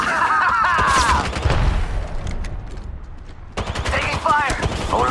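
Rapid gunfire in Apex Legends Mobile rattles out in dense bursts between clipped in-game voice lines, loud and close, with a short lull before another burst of shots and chatter.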